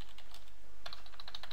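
Brief burst of typing on a computer keyboard while entering code, with soft light key clicks that quicken into a faster run of taps near the end, heard alone and close.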